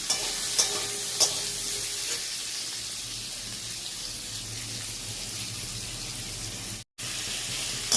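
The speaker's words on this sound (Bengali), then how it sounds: "আর গাজর আর আলুটা ভেজে নিই" Carrot and potato frying in a pan, a soft steady sizzle with a few clicking stirs near the start and a brief cut of silence near the end.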